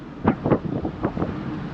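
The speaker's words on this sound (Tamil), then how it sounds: "காற்று பார்த்தீங்களா இல்லையா செம்மையாக அடிக்குது" Strong wind buffets the microphone on a hill road near the streams of Achankovil, Kerala, coming in loud, uneven gusts with no talking.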